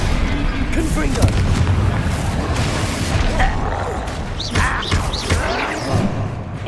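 Fiery spell blasts from a Hogwarts Legacy battle, with booming explosions and thuds over a busy game soundscape while voices shout spell names.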